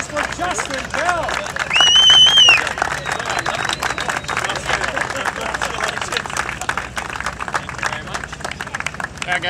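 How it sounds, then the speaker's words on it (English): A crowd at a race-win celebration claps and cheers for a racing driver, with a dense, steady applause mixed with crowd babble and brief whistles early on. "Can we have a round of applause for Justin Bell?"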